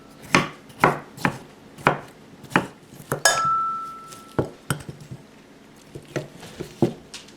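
A knife chops an English cucumber on a cutting board with steady, evenly spaced thuds up close, plus a brief ringing clink of metal or glass partway through.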